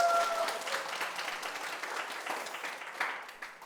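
An audience at a televised lecture claps in a dense, continuous round of applause that stays fairly even and moderately loud throughout, with a few sharper claps standing out near the end.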